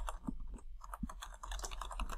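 Rapid typing on a computer keyboard while coding in Python, a quick irregular run of close, crisp key clicks with a few heavier thumps, fairly quiet and without speech.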